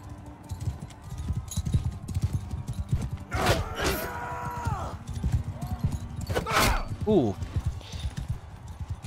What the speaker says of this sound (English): I do like the fight on the horses.